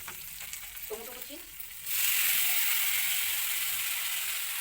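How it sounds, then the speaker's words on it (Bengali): Panch phoron spices hit hot frying oil for a vegetarian pointed gourd masala, and a loud, close sizzle bursts in suddenly after a quiet moment and keeps hissing steadily. "এখন এই যে ভাজার তেলের মধ্যেই পাঁচ ফোড়ন সময় দিব"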